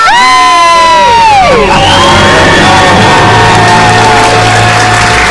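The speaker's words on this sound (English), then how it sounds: "Let's hear a debt-free scream." Several callers on a live stream let out a loud, sustained group scream celebrating paying off debt, with high shrieking voices gliding downward together before settling into a ragged, cheering roar, all close and very loud.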